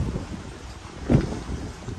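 Wind blowing outdoors beside a canal near a railway, a steady broadband rush with a gusty swell midway, buffeting the microphone, no talking.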